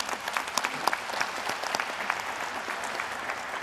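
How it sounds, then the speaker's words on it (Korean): Audience applause at a future defense strategy committee meeting, a room of people clapping together in a lively, uneven patter heard at moderate distance, without speech. "여러분 큰 박수 부탁드립니다"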